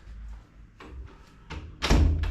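A hotel room door in Baguio City, Philippines, is handled with a few soft knocks and clicks, then shuts with a loud, close thud followed by a short rattle, with no talk.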